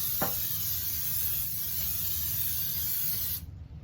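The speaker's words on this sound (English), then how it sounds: "So what I'm going to do now, I'm going to spray this pan." A steady hissing spray from an aerosol can of cooking spray onto a pan runs for over three seconds, close and loud, then cuts off abruptly.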